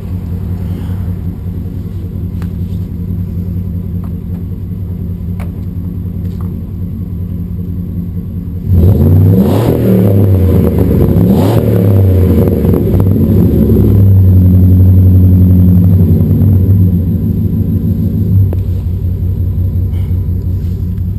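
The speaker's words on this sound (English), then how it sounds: "So inside the cab, the exhaust sounds pretty nice." A Dodge Dakota pickup idles with a low, steady exhaust rumble, then the engine is revved for several seconds, rising into a loud, throaty roar before settling back toward idle.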